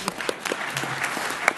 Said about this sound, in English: we'll have a quick applause